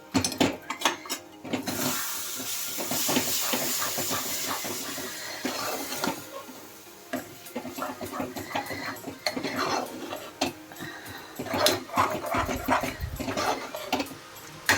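A thick tangy curry is stirred in a pan, a busy run of close scraping and clinking of a spoon against metal over a steady sizzling hiss, continuing throughout with uneven rhythm.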